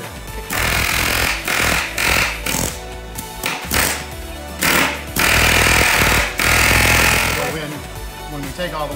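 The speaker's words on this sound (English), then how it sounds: "we got a pneumatic hammer. So we have to chisel off the inside of the pop rivet" A pneumatic hammer rattles loudly in repeated bursts of rapid hammering as it chisels off pop rivets inside a school bus, stopping and starting several times with short gaps between.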